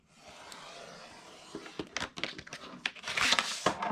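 A paper scrap is cut to size on a trimmer during card making, heard as quiet rustling followed by a series of close, sharp crinkling snips and scrapes.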